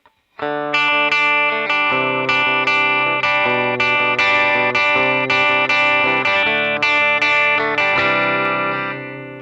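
Clean electric guitar through a Twin Reverb amp model on a NuX Mighty Plug headphone amp, playing a melodic riff of ringing chords, bright and loud with a slight chorus shimmer, continuing steadily until it fades at the end.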